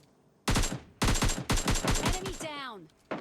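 Close, loud bursts of automatic gunfire in PUBG Mobile Lite come in several rapid volleys separated by short gaps, followed by a brief descending whooshing tone.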